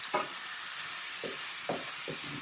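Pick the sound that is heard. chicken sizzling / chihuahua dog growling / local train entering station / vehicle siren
chicken sizzling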